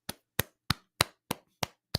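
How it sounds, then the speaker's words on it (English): Seven sharp, evenly spaced hand claps ring out alone at a steady rhythm, each a crisp, close, distinct hit, clapping for the NHS. "Come on, clap for the NHS,"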